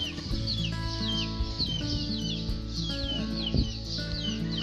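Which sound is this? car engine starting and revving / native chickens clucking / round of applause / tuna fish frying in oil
native chickens clucking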